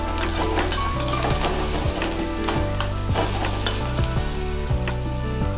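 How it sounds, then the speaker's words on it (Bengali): Chopped garlic sizzles and fries in oil in a pan for a katla kalia fish curry, a steady crackle under loud rhythmic background music with low beats throughout. "রসুনটা দিয়েও ভাজা ভাজা করে নিচ্ছি।"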